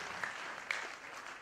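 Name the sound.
audience applause, clapping loudly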